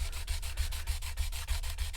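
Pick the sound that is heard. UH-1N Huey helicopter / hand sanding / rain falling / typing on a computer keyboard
hand sanding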